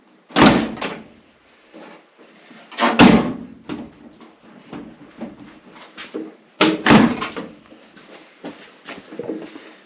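The door of a 1959 Willys Jeep pickup is shut several times, each close a sharp metallic slam followed by rattling and lighter clunks, with three hard closes spread across the stretch.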